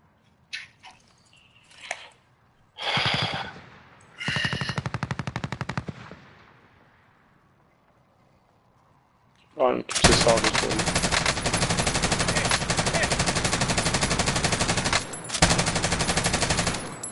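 Gunfire in the shooter game Call of Duty: Warzone: a few scattered loud shots and short bursts, then a long, sustained rapid machine-gun burst that runs nearly continuously to the end.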